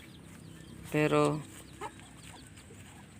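A hen on a backyard poultry farm gives a short, loud burst of clucking at close range, followed by a softer single cluck, while a person speaks quietly in the background.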